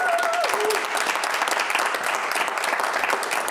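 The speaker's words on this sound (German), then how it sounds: "aber ihr dürft schon mal ein bisschen klatschen" An audience at a live stage show claps in a dense, steady burst of applause that fills the whole stretch, fairly close and even, with a brief voice at the very start.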